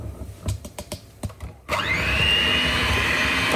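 After a few sharp clicks and knocks, an electric mixer starts up and runs with a steady, loud whir while beating cake batter in a home kitchen.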